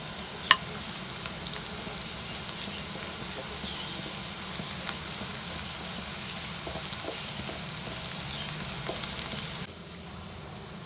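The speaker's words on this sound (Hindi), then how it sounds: "हरी मिर्चें भी इसमें शामिल कर देते हैं। फ्राई होती रहेंगी प्याज के साथ साथ।" Green chilies and onions frying together in a pan for onion paratha, giving a steady, close sizzle with soft crackles and occasional sharper pops throughout, no voices.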